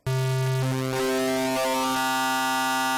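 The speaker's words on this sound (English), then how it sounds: "it's basically using a sine wave into a square." Massive synth patch using phase modulation, a sine wave modulating a square oscillator, sounding as a sustained bright buzzy tone whose pitch steps down in several stages over about three seconds, alone and loud.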